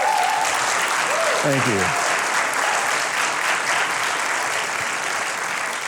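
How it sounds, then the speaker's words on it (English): Crowd at a comedy show applauding a comedian, a loud, sustained wall of clapping; someone briefly speaks near the start. "You all can clap. I appreciate that."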